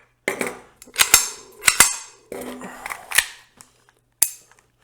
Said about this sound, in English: take the magazine out.